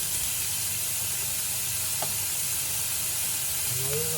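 Minced meat sizzles steadily in a hot pan during a home cooking demonstration, with a continuous frying hiss and occasional stirring scrapes close by, no talking over it.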